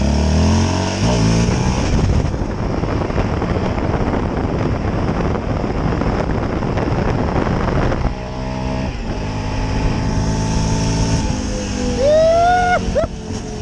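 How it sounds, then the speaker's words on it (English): A brand-new 2022 Raptor engine revs hard through a wheelie, a loud, continuous roar that climbs and shifts pitch, with wind buffeting the microphone throughout. "Let's do a wheelie."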